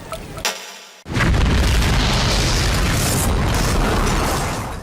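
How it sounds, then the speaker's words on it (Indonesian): A powerful car bomb detonates outside a nightclub during the Bali bombing, a second blast that shakes the street: after a brief quiet, a sudden loud, sustained roar of explosive rumble and debris fills the scene without any voices. "ledakan kedua yang jauh lebih dahsyat mengguncang jalanan"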